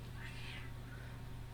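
A house cat meows once in a soft, drawn-out call over a steady low hum, fairly faint and heard alone.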